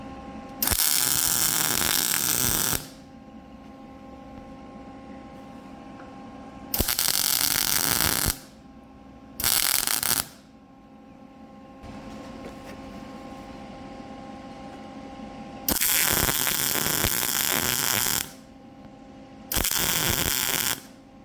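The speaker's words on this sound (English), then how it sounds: "And now we can zap it with the MIG welder." MIG welder laying beads on thick steel in several loud, close bursts of crackling, sizzling arc noise lasting one to three seconds each, separated by quiet pauses with a faint low hum and no speech.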